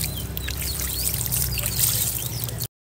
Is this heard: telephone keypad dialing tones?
no